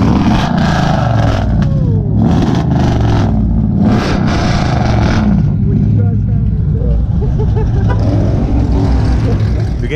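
A Chevrolet Camaro revs at a car meet in San Antonio with loud, rising engine bursts and steady throaty rumble, while crowd noise and voices mix in underneath.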